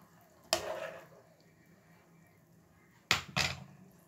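Garlic, ginger root and chicken giblets dropped into hot vegetable oil, giving a loud burst of frying at the start and two more sharp sizzling bursts near the end, with quieter crackle in between.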